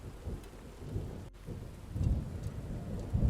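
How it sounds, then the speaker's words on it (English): Rain ambience with thunder: a steady, soft wash of rain falling on surfaces, with low, distant thunder rumbling beneath and swelling toward the end. "a generic rain ambience containing the thunder basically"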